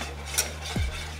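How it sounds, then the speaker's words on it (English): A spoon scrapes and clinks once against a pot while brown sugar is stirred into a sauce for Thai sticky wings, a short close metallic sound over a steady faint background. "I'm gonna mix that up."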